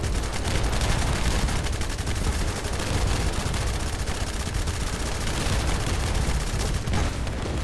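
Continuous rapid gunfire in the shooter game The First Descendant, a dense unbroken rattle of shots at steady high loudness throughout, with no gaps.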